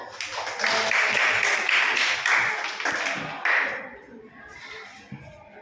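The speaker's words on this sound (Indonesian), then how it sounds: "Ya, bagus, tepuk tangan." Schoolchildren in a classroom clap together in a quick burst of applause, loud for about three seconds and then fading to scattered taps and murmurs.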